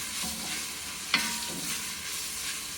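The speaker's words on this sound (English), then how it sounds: "Now, my onions are going to cook here." Halved onions with a pinch of salt cook in a pan for Peruvian beef seco, a soft steady sizzle with one brief clink of a utensil midway.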